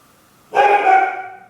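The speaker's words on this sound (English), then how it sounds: "she's gonna bark as long as she can see the mailman" A single loud, close bark from an indoor dog reacting to the mailman at the door, sharp and ringing briefly before fading.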